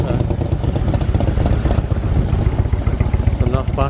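Motorcycles rumble past close by at a destination in Skagen, Denmark, their engines loud and pulsing with throttle changes, while someone talks over the noise.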